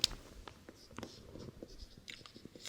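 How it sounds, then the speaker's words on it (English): A heading being handwritten during a science lesson on coal and petroleum, with faint, close pen strokes scratching in short irregular bursts and small taps, quiet and without talk. "Let me write down heading"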